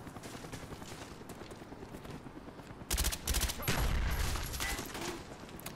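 Gunfire in the video game Black Ops: after low background game noise, a burst of rapid automatic shots rings out loud and close, followed by sustained rumbling fire and explosions.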